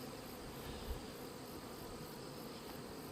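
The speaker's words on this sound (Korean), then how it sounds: "바람이 불어서 말벌이 거꾸로 날아가 버려." Hornets fly in gusty wind near a hive, a faint continuous insect buzz over a soft breezy hiss, with one brief low thump partway through.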